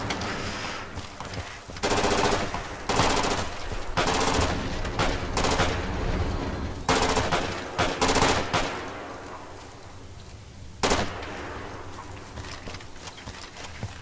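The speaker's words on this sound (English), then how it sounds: "He's just emptying his mag." Bursts of rapid automatic gunfire in a video game as a player empties his magazine, several loud strings of shots separated by brief pauses, ending in one short final burst and no talk.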